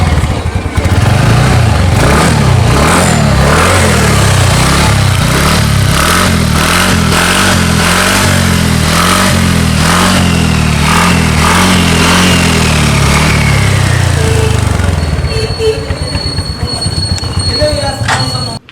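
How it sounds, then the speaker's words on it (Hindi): TVS Ntorq scooter engine revving with a rhythmic exhaust note, loud and close, a steady pulsing beat that rises and settles before tapering off near the end; no talking over it. "टीवीएस एंटॉर्क का जो एग्जॉस्ट साउंड है, इंजन का जो साउंड है"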